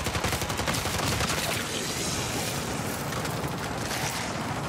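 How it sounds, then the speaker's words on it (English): Dense, sustained gunfire from MW3 Zombies, with rapid overlapping shots and occasional booms, loud and continuous throughout with no voices. "Lay down some cover fire."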